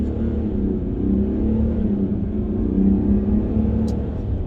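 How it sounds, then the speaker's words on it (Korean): Inside a Mercedes-Benz GLE 400d Coupe diesel in comfort mode as the accelerator is floored on an open road, a steady, fairly loud low engine drone and road rumble hold even throughout, with no clear rise in pitch. "엑셀 응답이 얼마나 빠른지 지금 이제 엑셀을 밟아볼게요. 풀악셀입니다."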